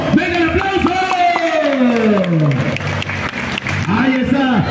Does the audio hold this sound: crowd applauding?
yes